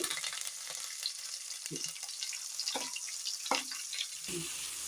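Biryani spices, curry leaves and onion frying in hot oil in a cooker, a continuous crackling sizzle with a few louder bursts and stirring knocks, close and without talk.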